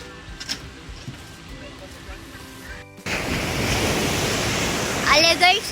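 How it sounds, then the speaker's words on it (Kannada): Ocean waves wash onto a beach in Goa: after a quiet opening, a loud broadband rush of surf sets in and stays close and steady to the end. "ಅಲೆಗಳ ಸೌಂಡ್ ಕೇಳಿಸ್ತಿದ್ಯಾ?"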